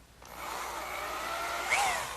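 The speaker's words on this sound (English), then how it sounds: "I'll pre-drill some holes in the end" A power drill pre-drills screw holes in the end of a wooden candle stand column, a steady whirring hiss that starts abruptly and runs for about two seconds with a faint squeal near the end, with no talk.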